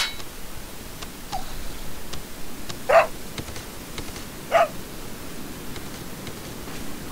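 A dog in Resident Evil 4 gives two short, clear barks a second and a half apart over a steady noisy game background.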